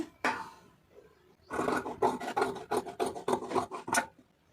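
Scissors cut through Aari blouse fabric in a run of rasping, scraping strokes: one early burst, a pause, then a dense series of quick cuts.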